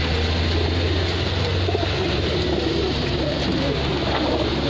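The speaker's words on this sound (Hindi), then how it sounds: "यह रामपुरी कबूतर है भाई" Rampuri pigeons coo in low, throaty repeated calls, close by, over a constant hum of background noise.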